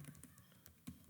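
Typing on a computer keyboard during a typing test, with a few quiet, close key clicks at an uneven pace, including one sharper keystroke near the end.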